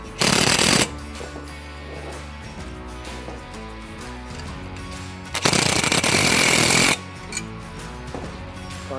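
An impact tool rattles in two loud, harsh bursts while tightening bolts on a Polaris Ranger XD1500 spare tire mount, with steady machine noise between the bursts.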